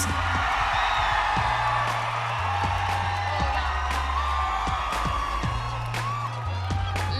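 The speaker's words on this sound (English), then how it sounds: "Make some noise for Philippines!" Audience at the Miss Universe 2010 preliminary pageant cheers and whoops for Miss Philippines, a broad, steady roar of crowd noise that holds for the whole stretch.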